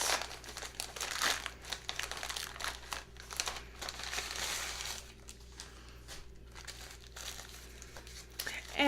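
Soft, close crinkling of tissue paper, steady rustles with a few sharper crackles, quiet and without speech.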